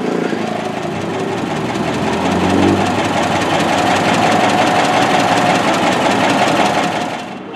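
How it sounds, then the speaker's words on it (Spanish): A 1985 Volkswagen Kombi with a 1600cc engine and an HHO hydrogen system runs steadily, its close, even mechanical hum and rapid ticking holding level for several seconds before tapering off at the end. "como vemos hasta el sonido del vehículo ha variado, ha cambiado, es un sonido más fino"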